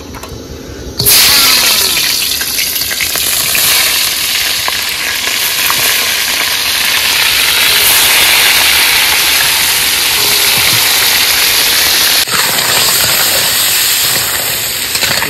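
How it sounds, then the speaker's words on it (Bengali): Crabs deep frying in hot oil during an outdoor cooking session in the Sundarbans forest, a loud, steady sizzle that starts abruptly after a quiet first second and continues unbroken, with a brief shift near the end. "তেল গরম হয়ে গেছে, কাঁকড়াগুলোকে একটু ভেজে নি।"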